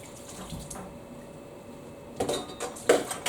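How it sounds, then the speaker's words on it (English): Tap water runs quietly into a sink while hands are washed, a soft continuous trickle that turns into louder splashes and clatter toward the end; no talking is heard. "I'm just going to quickly clean my hands."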